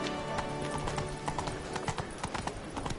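Galloping horse hooves in the video game The Witcher 3: Blood and Wine beat out a quick, steady clip-clop rhythm, moderately close and alone.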